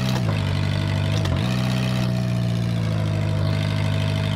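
A 646-horsepower forklift in a VR game idles with a steady, loud engine drone. The pitch dips briefly once, then settles back into an even hum.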